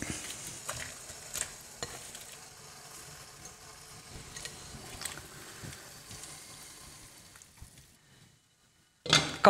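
Broccoli is lowered into a large pot of boiling water, giving a soft bubbling and gurgling with scattered splashes and clinks, fairly quiet, fading to near silence before a louder burst at the end.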